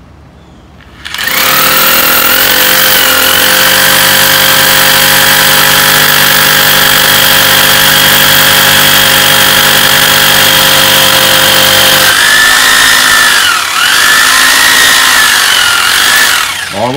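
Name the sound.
power drill drilling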